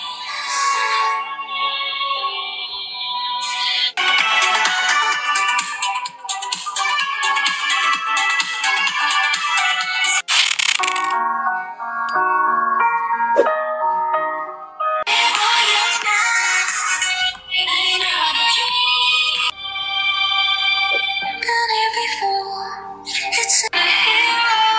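A ringtone melody plays loud and clear through the stereo speakers of a Tecno Pova Neo 3 smartphone, bright tonal phrases with brief pauses and a deeper bass line entering partway through, no talk.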